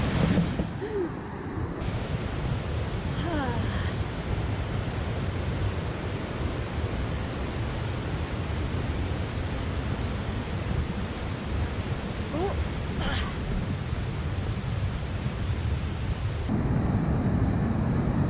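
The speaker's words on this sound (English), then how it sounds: "Come on, Kate, let's cross over the river" Rushing river water near the Chalaadi Glacier in Mestia, a steady broadband roar of turbulent flow with some wind, continuous and fairly loud for the whole stretch, with faint bird chirps.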